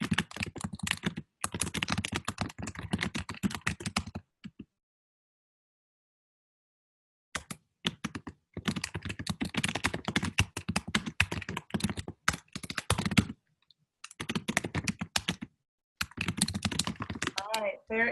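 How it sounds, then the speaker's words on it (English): Fast, vigorous typing on a computer keyboard over an unmuted webinar microphone, close and clattery, in bursts separated by short pauses. "there is some vigorous typing going on from one of us who is unmuted"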